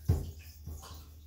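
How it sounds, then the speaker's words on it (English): Water splashes and runs over a doll's hair during a rinse, heard as a soft, close burst at first and a quieter second splash, with a low hum underneath. "And just rinse her hair."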